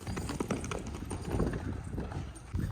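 Mares' hooves clip-clop on a farm during a farrier visit where the horses are being shod. The hoofbeats are faint and steady, blended into a busy background.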